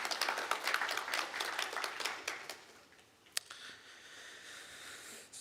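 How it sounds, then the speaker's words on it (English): Graduates and guests at an online graduation ceremony applaud, a burst of scattered clapping that thins out and fades, leaving a few isolated claps over quiet room noise. "So round of applause to yourself"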